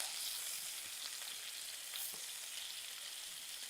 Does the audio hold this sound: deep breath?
no